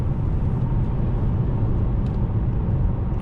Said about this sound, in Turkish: üst devirlere çıkınca böyle bir hırıltılı tatlı bir motor sesi var